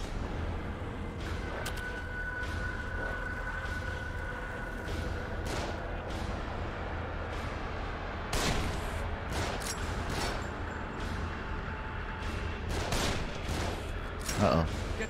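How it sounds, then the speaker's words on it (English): Gunfire in The Evil Within horror video game, with repeated sharp bursts and volleys spiking over a steady noisy combat backdrop, loudest near the middle and end of the passage. "They're shooting from the left."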